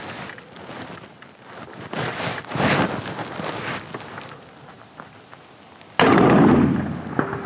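A rifle shot fired outdoors at a 300-yard target, a single loud boom near the end after a stretch of wind and handling noise, ringing out sharply close by.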